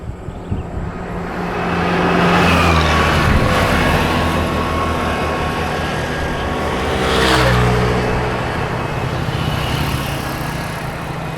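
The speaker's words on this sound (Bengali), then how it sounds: "সামনে একটা বাইক আসতেছে" A motorbike approaches on a road in Tanzania. Its engine noise swells to a loud, close peak and then fades slightly, with no talking.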